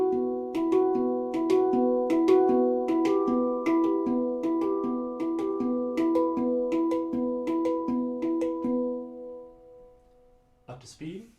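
A Halo Aegean handpan plays a slow progression across its three highest notes, each struck twice in a double-strike pattern, ringing tones overlapping in an even rhythm for about ten seconds before fading, then a brief voice.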